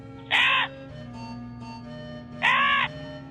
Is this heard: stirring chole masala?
no